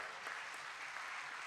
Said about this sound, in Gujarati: તાળીઓથી ફરી વધાવો